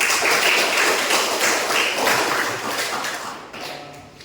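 Classmates applaud together in a university classroom teaching session, a dense, steady patter of many hands clapping that carries on for a few seconds before thinning and fading out near the end.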